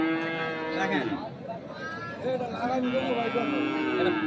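Sahiwal bulls moo repeatedly, long low calls close by, with people talking underneath and around them.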